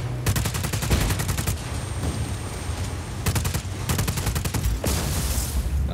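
Rapid bursts of automatic gunfire in the open-world action game Just Cause 4, loud close volleys in several rhythmic strings separated by brief gaps.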